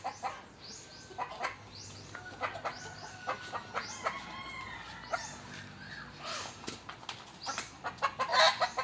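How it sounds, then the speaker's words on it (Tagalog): Several heritage chickens with Oriental blood fight in a backyard farm, clucking and squawking in agitated bursts, with sharp clucks and cries scattered throughout and growing louder near the end. "Mga manok natin nag-aaway kasi normal yan kasi may dugo silang orientals, matatapang talaga."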